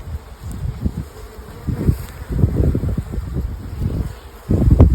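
Low, steady buzzing of honey bees around an open hive, with swelling pulses, many bees droning close by, growing louder toward the end.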